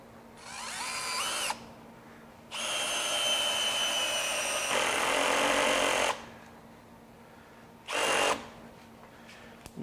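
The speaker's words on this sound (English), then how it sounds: "we're going to drive some 3 inch lag screws here" A Greenworks 24V brushless cordless drill whirs in three bursts separated by short pauses, the middle run long and labouring as it drives 3-inch lag screws into wood, close by.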